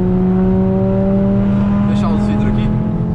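A Jetta five-cylinder with a straight exhaust pulls hard from about 80, its loud, steady engine drone rising in pitch, heard from inside the car with someone talking over it.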